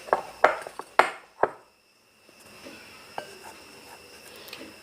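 A spoon mixes biscuit batter in a bowl, with a quick run of sharp clinks and knocks against the bowl, then a brief pause followed by softer scraping, close and clear with no voices.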